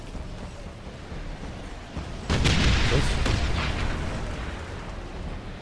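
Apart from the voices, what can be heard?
explosions in a video game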